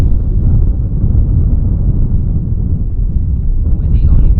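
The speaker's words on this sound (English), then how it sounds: "You hear nothing but the wind just rowling." Wind roars across a microphone on a fog-covered mountain hike, a loud, continuous low rumble with gusty buffeting throughout.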